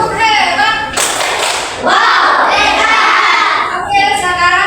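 A group doing a rhythmic patterned cheer clap at a school group presentation, loud and close, with bursts of claps mixed with shouting voices.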